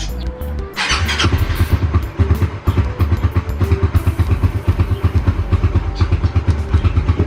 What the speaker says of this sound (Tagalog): Mababa yung idle.